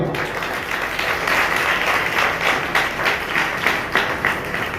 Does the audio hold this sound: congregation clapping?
yes